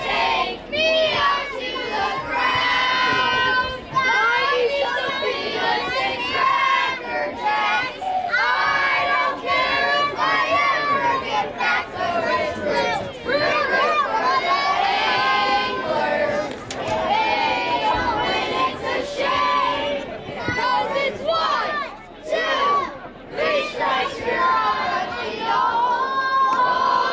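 Crowd of around 4,000 to 5,000 people at a Fourth of July ballgame at Veterans Field, loud and continuous with cheering, shouting children and chatter, swelling and dipping throughout.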